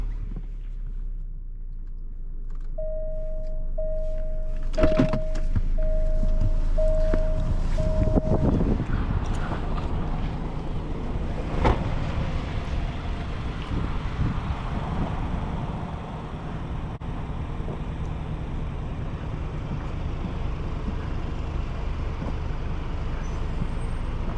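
A 2021 Alfa Romeo Giulia Ti engine cranks and fires up, settling into a steady, loud idle rumble that continues alone for a long stretch.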